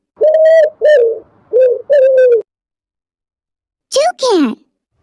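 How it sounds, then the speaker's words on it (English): A pigeon coos in four steady, mellow notes in an even rhythm, loud and close. A short voice sound follows after a pause. "pigeon"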